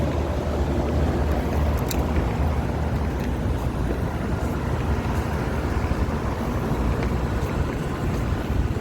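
The blower of an HVAC package unit circulates air, a steady, broadband whooshing hum that stays constant and close throughout, with faint clicks and no voices.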